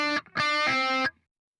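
An electric guitar with distortion sounds two sustained, buzzy notes, the string plucked by the third finger in a legato pull-off, loud and close, then cut off into silence.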